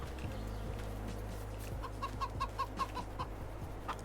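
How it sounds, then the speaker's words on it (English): Chickens cluck in a farmyard in Farming Simulator 22, a series of short rhythmic clucks over a steady ambient hum, moderately close with no talking. "Chickens."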